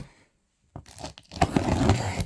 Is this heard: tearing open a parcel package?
yes